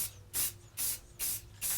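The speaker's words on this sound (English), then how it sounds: "we'll just give it a nice even spray. Short spurts" Short spurts of spray from a can onto a wall art piece, four hissing bursts in an even rhythm with brief pauses between, close and fairly loud.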